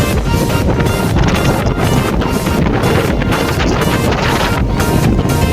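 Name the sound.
wind blowing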